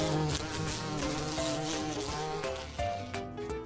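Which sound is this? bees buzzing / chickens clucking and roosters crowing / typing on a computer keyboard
bees buzzing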